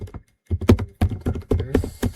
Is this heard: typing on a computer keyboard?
yes